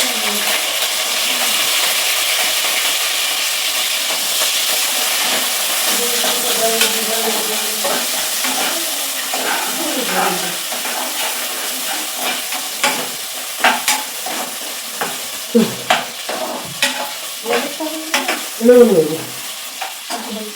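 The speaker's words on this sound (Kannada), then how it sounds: "ಇದಿಷ್ಟು ಡ್ರೈ ಮಸಾಲ ಇವಾಗ ಹಾಕ್ತಾ ಇರೋದು" Dry spices and kasuri methi sizzle and fry in a pan, with steady hissing and scraping stirs that grow into clinks and knocks of the spoon toward the end.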